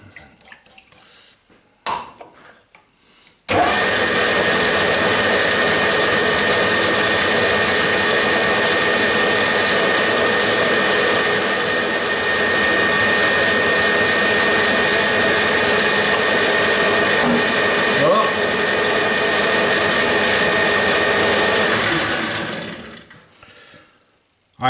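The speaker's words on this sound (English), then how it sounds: "let's drill" An experimental air engine runs steadily for about twenty seconds after a few brief knocks, a loud continuous whirring drone with a faint tonal whine, then cuts off and winds down.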